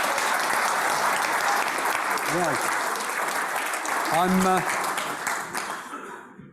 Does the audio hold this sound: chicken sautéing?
no